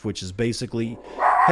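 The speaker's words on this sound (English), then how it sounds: "That's my dog is freaking out." A pet dog barks and yips in short bursts close by, its sharp calls alternating with someone talking over it.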